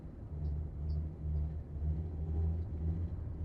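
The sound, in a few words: car driving slowly straight ahead in video game Backseat Drivers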